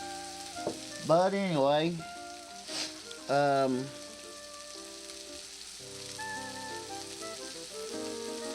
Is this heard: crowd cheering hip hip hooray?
no